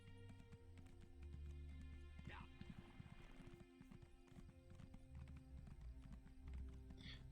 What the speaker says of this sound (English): Perhaps I should jump on my horse